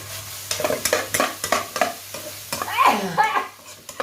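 Frog and holy basil stir-fry in a pan: a steady sizzle with repeated scraping and clanking stirs of a spatula, close and clear, with no talk.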